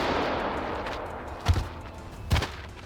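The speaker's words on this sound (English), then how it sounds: "Then the gunfire began." Two loud, sharp gunshots ring out about a second apart against a steady rushing background, amid chaotic violence where people are screaming and falling.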